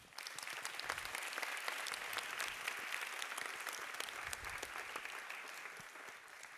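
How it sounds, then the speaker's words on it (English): Sustained applause from the audience for all competing teams at the IYPT 2025 physics tournament final, even, dense clapping holding steady throughout. "So a big round of applause to all teams."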